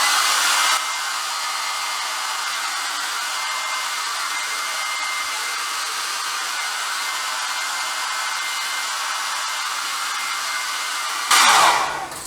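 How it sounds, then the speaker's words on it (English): A hair dryer runs on high with a steady, loud whoosh, starting with a slight shift and ending with a louder burst as it is handled. "So then you go back to the hair dryer, I turn it on high usually"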